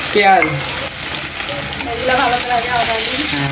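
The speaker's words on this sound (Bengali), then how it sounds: "তেল গরম হয়েছে তো শুকনা মরিচ দিয়ে দিল এগুলো রসুন তারপর পেঁয়াজ" Dried chillies, garlic and onion frying in hot oil make a loud, steady sizzle and crackle, close up, with faint voices in the background.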